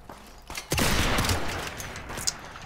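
Automatic gunfire in a first-person shooter game, a dense rattling burst after a few sharp shots, staying loud for about two seconds before trailing off.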